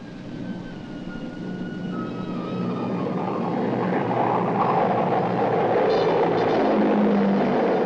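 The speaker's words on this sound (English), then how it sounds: "First to take off are the C-130s carrying maintenance and communications equipment." C-130 military transport planes take off in a 1964 joint U.S.–Iran exercise, their propeller engines building into a loud, broad roar that swells steadily over several seconds.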